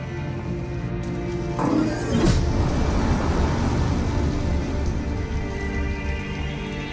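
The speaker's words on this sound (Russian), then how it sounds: "на улице ливень" Heavy rain in the video game Detroit: Become Human, a dense, steady wash of downpour that fills the scene from start to finish, with a brief swell partway through and no voices.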